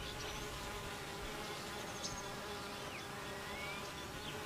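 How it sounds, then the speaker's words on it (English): A swarm of honey bees drones steadily, many of them gathered in one place, with a faint, continuous buzz and individual bees passing by now and then. "Thousands of drones from many bee colonies gather in one place."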